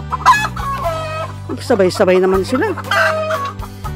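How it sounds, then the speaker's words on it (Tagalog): Several hens on a small La Union farm cackle loudly and repeatedly, overlapping one another in excited bursts, while someone speaks briefly between the calls. "Sino pumuputak?"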